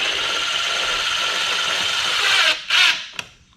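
A power drill drives screws to mount 6.5-inch front speakers on a Kawasaki Voyager, whirring steadily for a couple of seconds, then stopping in short bursts with a final brief clicking tug as the screw snugs up.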